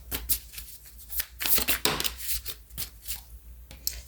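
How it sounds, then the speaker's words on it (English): Tarot cards being shuffled and pulled, crisp riffling flutters and soft slaps in quick irregular bursts, close up and moderately quiet, with no one speaking. "I'm just pulling the tarot here on the side"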